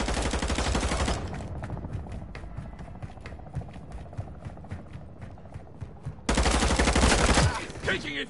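Video game gunfire: loud, close bursts of automatic fire open and close the stretch, with a rapid string of lighter single shots in between.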